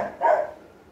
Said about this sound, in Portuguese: Receba as honras da casa e o latido do Marley, né?